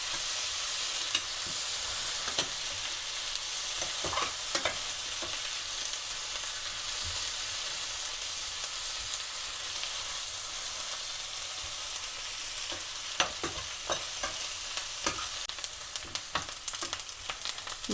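Chopped chillies sautéed in a pan for a tinned fish relish, with a low steady sizzle throughout and occasional spatula scrapes and taps; no voices.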